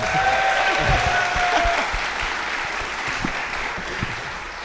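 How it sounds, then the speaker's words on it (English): Applause from a live audience at a basketball talk show in Houston, a dense steady roar of clapping that begins loud and tapers slightly over several seconds. "Give yourself a round of applause."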